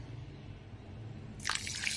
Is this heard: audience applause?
no